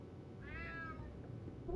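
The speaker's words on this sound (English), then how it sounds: "Damn cat." In the video game UnMetal, a cat gives one short meow at moderate distance over a low background drone, followed by a faint bump at the end.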